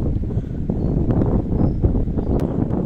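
Steady broadband wind gusting at a beach in Calatagan, Batangas around dawn, a continuous low roar and rumble filling the whole stretch with no pauses.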